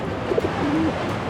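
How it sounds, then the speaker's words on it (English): Pigeons coo close by in Dubrovnik, Croatia: a few soft, low burbling calls followed by one longer drawn-out coo over quiet ambient noise. "I just really like pigeons."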